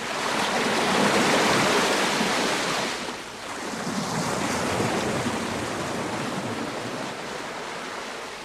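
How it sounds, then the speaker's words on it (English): Sea waves washing and splashing over a shingle beach for a radio drama, a loud continuous roar of surf that briefly eases and then surges again, steady and close with no voices. "The shingle was cold on my bare feet, and the waves splashed me."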